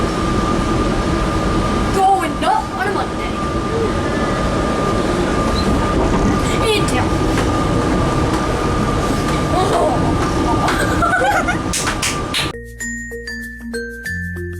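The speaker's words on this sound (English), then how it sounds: "Okay, we're back on the metro." Onboard a Los Angeles metro train, a loud, continuous rumble with steady whine and clattering rail noise fills most of the ride, then cuts to a brief electronic chime tone near the end.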